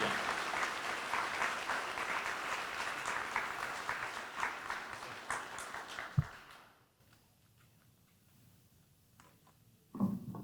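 Dense audience applause for Jeff fills a ribbon cutting ceremony for about seven seconds, then fades to a hushed room before a voice briefly starts up near the end.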